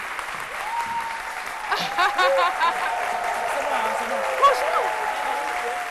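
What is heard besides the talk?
audience applause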